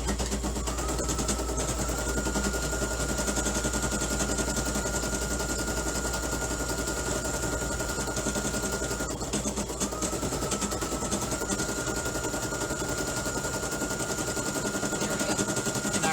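A home embroidery machine stitches a 5x7 Halloween mask design, its needle running in a fast, steady, continuous mechanical chatter with a constant motor hum, close and even throughout with no talking.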